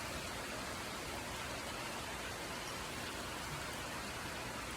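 Steady rain falling outside, a dense even hiss of drops with no pauses or variation, close and enveloping, no voices present.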